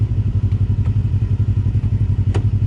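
A side-by-side UTV engine drones at top speed on a wooded ravine trail, a steady pulsing roar with occasional clatter and thumps from the ride, loud and close with no talk.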